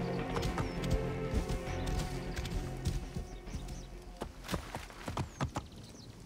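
Rapid hoof clip-clop of a galloping horse in Assassin's Creed Origins, with sharp irregular hits and a brief murmured voice.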